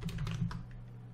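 A computer keyboard clicks through a short burst of quick keystrokes as a sudo password is entered on a Linux machine, close and fairly quiet over a low hum.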